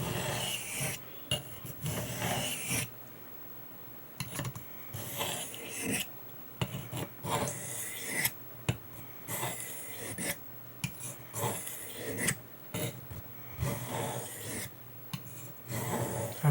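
A Blue Denim Wharncliffe knife edge is sharpened under heavy pressure, making repeated raspy strokes that scrape steadily in bursts of a second or two, separated by short pauses, up close and without talk.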